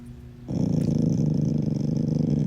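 A dog growls low and continuously for a couple of seconds. The rumble swells louder after a short softer start and is heard alone, close by.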